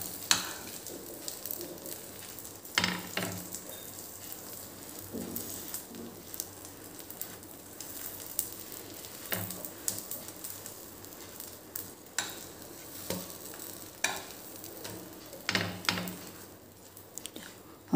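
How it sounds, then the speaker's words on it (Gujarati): Wafer pav toasting on both sides in a pan gives a steady, quiet sizzle with scattered soft crackles and light scraping throughout, and no voices. "આવી રીતે આગળ પાછળ બંને બાજુ શેકી લેવાના"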